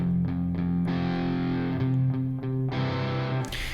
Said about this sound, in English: It's literally just a dual rectifier.